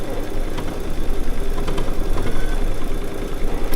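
A Baby Lock quilting machine stitches an edge-to-edge dogwood design across a small quilt, giving a steady, close, continuous mechanical whirr with a rapid needle rhythm that holds even throughout.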